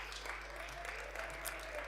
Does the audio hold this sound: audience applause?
yes